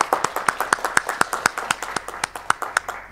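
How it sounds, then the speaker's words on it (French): Applause at a literary prize ceremony in Abitibi-Témiscamingue comes as sparse, evenly spaced sharp claps, sounding like only a few people clapping nearby in a quiet room, ending after about three seconds. "bravo, on l'applaudit"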